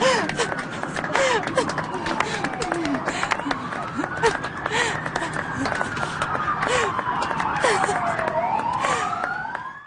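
Wailing emergency sirens sweep up and down from fire engines rushing toward a damaged airliner after an emergency landing, several overlapping and fairly close, over dense background noise, clatter and voices.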